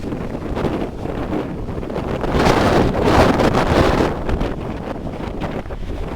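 Gusty wind rakes across the microphone as a weather front moves in and picks up dust in open desert country near Hawthorne, Nevada, a loud continuous roar that swells in the middle and then eases, with no one speaking.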